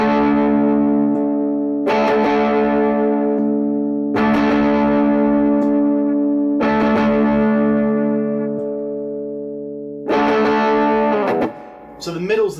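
Electric guitar through a Hubcap John Sundial fuzz pedal, switch in the middle position: loud, buzzy fuzzed chords struck one at a time and left to ring out, with a brief noisy pick scrape near the end.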